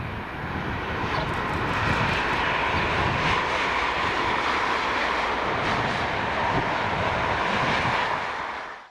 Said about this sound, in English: it's a bit of cross-country HST action in the form of on S39, the 1421 Plymouth to Edinburgh with the newly repainted 43184 and 43303